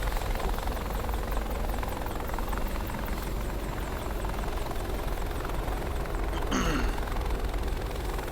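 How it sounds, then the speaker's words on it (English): Apache attack helicopter in a flight simulator game, its rotor drone steady and loud throughout with no speech over it. "Is that a stealth mode Apache? It doesn't even look like a helicopter."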